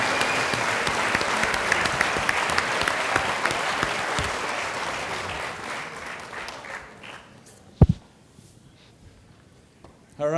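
A celebration-event audience claps loudly and steadily for producers, a dense sustained applause that tapers off, followed by a single sharp knock and near silence.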